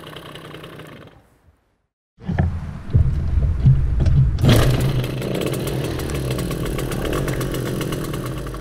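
A Soviet Riga Mini RMZ moped engine falls briefly silent, then sputters into life and buzzes steadily at close range with a loud, rough two-stroke rasp.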